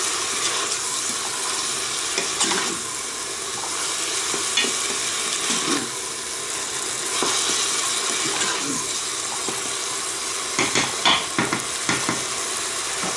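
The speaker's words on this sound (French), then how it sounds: "Là on va remuer." Garlic pulp and frozen vegetables being stirred in a Cookeo multicooker pot, a steady close sizzle with irregular scraping and clacking of the spoon against the pot.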